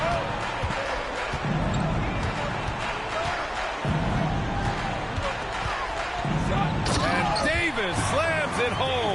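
NBA 2K basketball game: a dunk slammed home over steady arena crowd noise, with the ball thudding and sneakers squeaking, while a commentator talks throughout.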